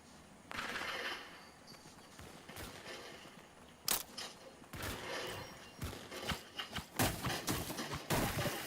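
Shotgun fights in a video game produce a scattered run of sharp gunshot blasts at varying distances, some loud bursts and some fainter, with no talking.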